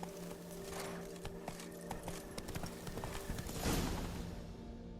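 Roach, a horse in The Witcher 3, gallops along with rapid rhythmic hoofbeats and a jingle of tack, moderately close and steady, briefly louder near the end.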